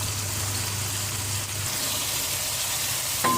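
Chicken pieces frying for achari chicken, a steady close sizzle of hot oil in a pan with a low hum beneath and a brief clink of a utensil near the end.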